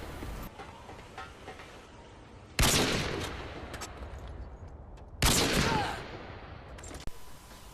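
Two sharp, loud sniper rifle shots ring out in a video game, each with a booming tail that fades over a couple of seconds, spaced a few seconds apart over steady background game noise.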